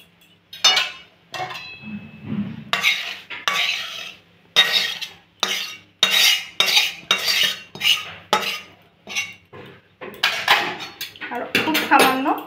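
A metal spoon stirs fried vegetables into white pasta sauce in a pan, making a series of close scraping strokes and clinks in quick bursts with short pauses between them.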